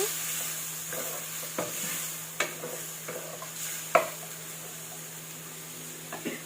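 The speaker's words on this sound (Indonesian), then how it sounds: "Kemudian masukkan petenya. Aduk-aduk lagi." Squid sambal with petai beans stirred in a pan: a steady low sizzle runs underneath, broken by several sharp utensil scrapes and taps against the metal at uneven intervals, close up.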